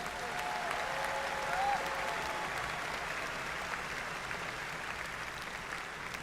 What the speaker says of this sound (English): Another round of applause for our new doctors.